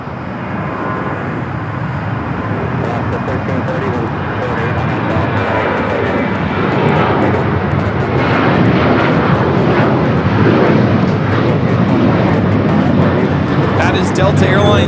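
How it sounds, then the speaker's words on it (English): A Delta Boeing 737-900ER jet taking off at LAX for Austin gives a loud, building engine roar that swells over the span, with people talking over it. "That is Delta Airlines 986 taking off to Austin on the 737-900ER"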